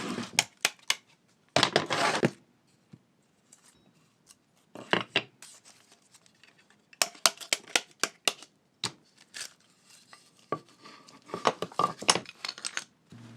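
Sharp crinkling and rustling of packaging as folding knife parts are unwrapped, in irregular bursts with quiet gaps, some clicks and small metal clinks, close and fairly loud with no talking.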